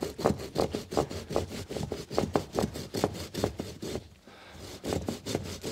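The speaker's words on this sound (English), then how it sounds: "I prefer to use a saw rather than nibble away with a branch cutter." A hand saw works through a thick Japanese maple branch with quick, even rasping strokes close to the microphone. It pauses briefly before the strokes start again.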